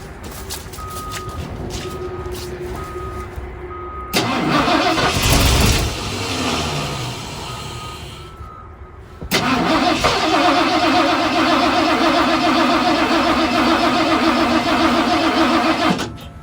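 A 1974 Ford F250 SuperCab's 460 V8, parked for 14 years, cranks with a whirring starter, catches and sputters, loses speed, then restarts and settles into a loud, rough, steady idle close by.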